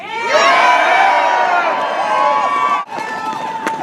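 Large crowd at an AUPE union rally against Alberta's Bills 45 and 46, cheering and whooping loudly and steadily, then briefly dropping before the roar picks back up.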